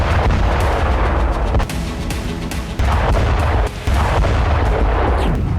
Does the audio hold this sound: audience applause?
no